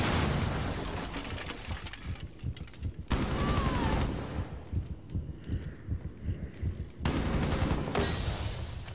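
Rapid, sustained LMG fire in Rainbow Six Siege, in loud close bursts of heavy thudding shots separated by brief pauses, with a quieter stretch of pulsing shots in the middle.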